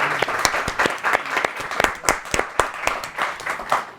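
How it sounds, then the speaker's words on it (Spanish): An audience applauds at the close of a Spanish-language seminar on music and particles, with steady, dense clapping from a room of people that holds even throughout, with no voices over it. "así que vamos a darles un aplauso"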